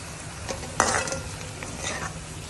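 A spoon stirs a sizzling tempering of onion, garlic, green chili, cumin and turmeric in a pan, with close scraping strokes and a sharp clatter near the start over continuous frying hiss.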